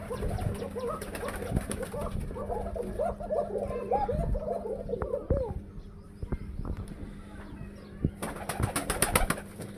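Domestic pigeons in a loft coo in a run of close, repeated throaty calls, then quieten, with scattered clicks and a burst of flapping or rustling toward the end.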